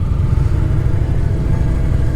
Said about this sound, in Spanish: estamos arrancando aquí, estamos calentando motores